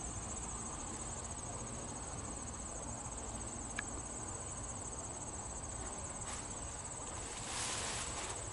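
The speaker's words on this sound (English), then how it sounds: "Getting a lot of grasshoppers." Grasshoppers in a meadow at the edge of a pond, a steady high-pitched insect buzz running continuously and evenly throughout, fairly faint against a soft background hiss with no voices.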